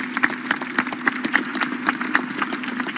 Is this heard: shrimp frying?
no